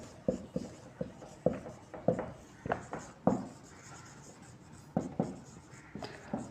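Handwriting with a pen on paper, dry scratchy strokes coming in short irregular bursts with small pauses between them, close and fairly quiet, with no one speaking.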